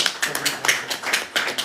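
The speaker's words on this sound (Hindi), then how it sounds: "ज़रा तालियां बजा दीजिए" An event audience gives a brief spatter of clapping, with several quick, uneven hand claps close by and no voices.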